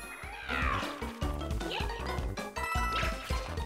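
Cat-bell power-up in Super Mario 3D World gives a stack of loud, high, squeaky cartoon meows and bright chiming jingles over a busy, bouncy game soundtrack, repeating in quick bursts with no talking.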